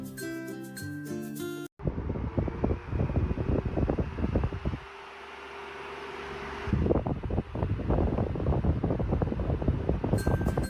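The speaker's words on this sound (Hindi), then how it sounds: "ये है टेबल फैन" An electric table fan runs with a steady whooshing hum, close and continuous, with a brief break early on and a change in tone partway through.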